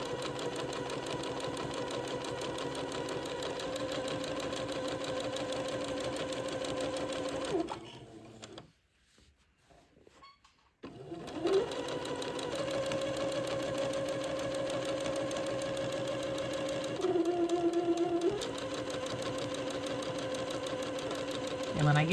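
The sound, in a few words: sewing machine stitching a French seam on a gown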